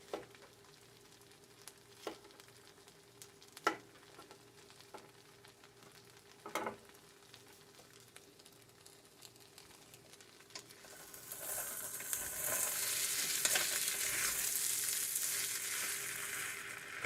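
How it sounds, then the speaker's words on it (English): Fresh garden zucchini and squash are sautéed in a pan. A few sharp clicks and knocks come first, then a loud, steady sizzle bursts up and carries on close by. "we're going to have a little sauteed zucchini and squash, because they're fresh from the garden"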